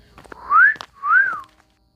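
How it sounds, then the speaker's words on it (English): A wolf whistle made of two rising-and-falling whistled notes, close and clear, with no talk. "he heard a wolf whistle from Matsun"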